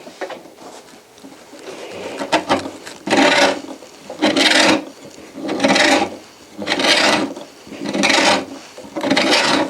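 A cello endpin hole is cut by hand, with a reamer rasping into the wood in repeated slow strokes, about six loud scraping passes separated by short pauses.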